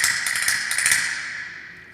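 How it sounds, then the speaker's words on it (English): Castanets in a simulated room with hybrid acoustic rendering give a quick burst of bright, rapid clicks, then a smooth reverberant tail that fades over about a second. "So now the castanets sound like this."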